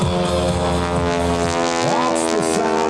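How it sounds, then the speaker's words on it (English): A radial-engine aircraft flying aerobatics at the Blue Angels homecoming airshow gives a loud, steady, deep propeller rumble with rich harmonic drone throughout, the pitch briefly rising and falling as it maneuvers. "That's the sound of many sonic booms the propeller tips are making."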